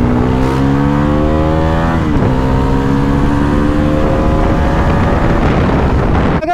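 Bajaj Pulsar NS400Z motorcycle engine at high speed, a loud close buzzing roar whose pitch climbs steadily, dips sharply at a gear shift, then rises again under heavy wind rush.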